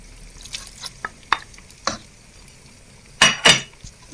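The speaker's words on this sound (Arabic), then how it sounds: "ونضربك نحرك كامل الخليط تاعي" A spoon scraping and stirring chicken filling into a béchamel mixture in a pot, with a few scattered clinks followed by two louder, close scrapes near the end, no talking.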